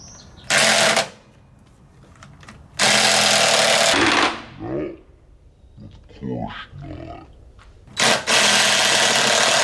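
Power tool, likely an impact wrench, spinning nuts off the studs of a Kohler 149cc XT engine on a Lawn-Boy mower, loud close bursts in three main runs with quieter gaps of handling noise between.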